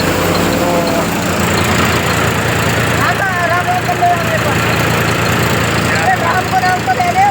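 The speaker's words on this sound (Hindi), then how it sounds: "भाई साहब चक्की आराम से चल रही है, मस्त तरीका है ना" A tractor-driven chakki flour mill runs steadily in a continuous loud mechanical drone with a low engine rumble, while people talk over it throughout.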